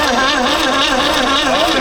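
Old Baretta boat outboard motor running after being cranked, a loud, close, steady mid-pitched engine drone with a slightly wavering tone.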